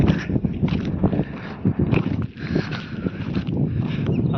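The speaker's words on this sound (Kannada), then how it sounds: "ಹೊರಗಡೆ ಗಾಳಿ ಒಂದು ಭಾಳ ಐತಿ, ನಾಯ್ಸ್ ಐತಿ ಫುಲ್." Strong wind on Bendawad hilltop buffets the microphone with loud, uneven low rumbling gusts that rise and fall over several seconds.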